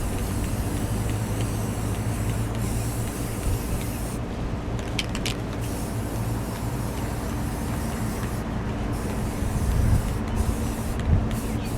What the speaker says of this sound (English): We're ready to spray the second coat on this one.